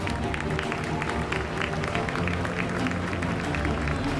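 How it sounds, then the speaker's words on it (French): Audience at a jousting show applauding the knights, a dense, continuous patter of many hands clapping at an even level, heard from within the crowd. "Je crois qu'on peut les applaudir une nouvelle fois"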